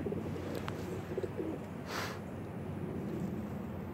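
Pigeons and doves cooing outdoors, a few soft low coos over steady background hum, with a brief burst of noise partway through.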